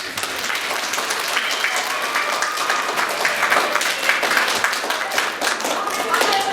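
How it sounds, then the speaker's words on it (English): Audience applause for a student named Rosie at a school character education assembly, steady clapping from a crowd throughout, mixed with children's voices. "can you give a hand and clap to my friend Rosie?"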